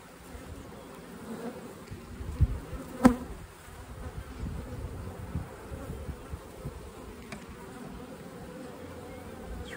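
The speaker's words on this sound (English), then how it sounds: "There's gonna be a lot of bees show up in this colony in a short amount of time." Bees buzz around an open hive frame during a colony inspection, a steady, close swarm hum with individual insects passing near, plus a few faint clicks and knocks from handling the hive.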